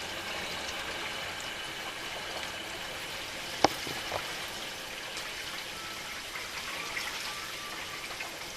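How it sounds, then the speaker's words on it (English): Water fills the sump of a whole-house water filter, a steady close trickle and gurgle that runs throughout. One sharp click stands out partway through. "Sounds like the second sump is almost full."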